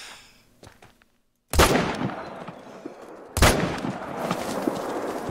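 Two loud rifle shots ring out at a red deer in theHunter: Call of the Wild, each a sharp crack followed by a long rolling echo, the first after a short silence and the second about two seconds later.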